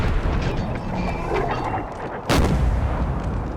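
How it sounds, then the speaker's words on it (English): Cannons fire canister shot in the Napoleon Total War video game, a loud booming blast rising out of continuous battle noise, with a sharp crack near the middle of the stretch and no talking. "can we get some canister going out of these cannons"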